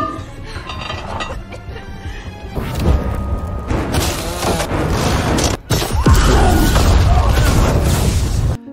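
A gas tank explodes with heavy booming blasts, the loudest burst hitting midway after a sharp drop, followed by a roaring, crashing rumble amid dramatic movie sound.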